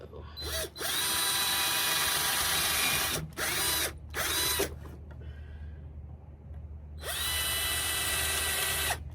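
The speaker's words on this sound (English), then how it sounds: "I'm going to drill my pilot holes." A power drill drilling pilot holes whirs in long, loud bursts close by, stopping and restarting several times with brief pauses between runs.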